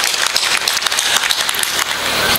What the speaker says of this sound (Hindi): प्लीज़ ज़ोरदार तालियां बजाएं।